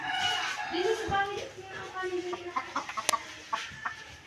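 Chickens clucking nearby in a backyard garden, a string of short throaty clucks and squawks, with a voice talking over them.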